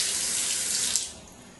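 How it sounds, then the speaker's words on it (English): Warm water runs from a tap in a bright, steady hiss that fades out as the flow is cut off after about a second. "take the tip of a washcloth and run it under warm water"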